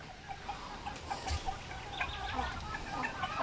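Chickens cluck softly and repeatedly in a quiet farmyard in the Philippines, short calls scattered over a low background hum.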